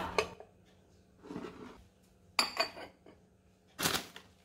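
A glass bowl of leftover hair-remedy water is covered and set aside. A few quiet clinks and knocks of glass come in short separate bursts, with near silence between them.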